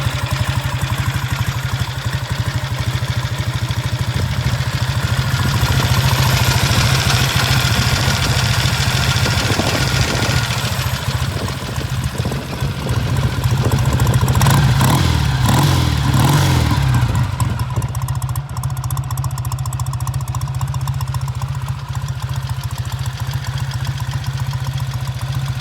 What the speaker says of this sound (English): it's quite an easy bike to start, so all you need to do, give it a nice firm kick